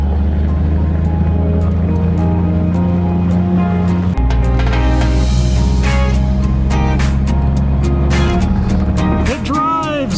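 Jeep Cherokee XJ on a test drive after a new clutch master and slave cylinder, its engine droning loud and steady from inside the cab with a pitch shift midway as it changes gear; voices speak briefly near the end.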